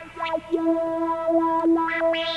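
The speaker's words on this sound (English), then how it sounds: "You can hear that sample hold LFO." A GeneralMusic GEM synth tone jumps between stepped random pitches as a sample-and-hold LFO sweeps the filter, producing quick, echoing bursts of changing timbre.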